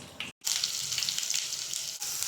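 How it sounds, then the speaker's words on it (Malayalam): Mustard seeds sizzle and pop in hot coconut oil in a pan, a steady bright crackling hiss broken by one brief pause. "കടുക് പൊട്ടി വരുന്നു."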